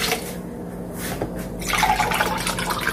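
Milk is poured into a large glass in a kitchen, a short close trickling and filling sound that builds and brightens as the glass fills.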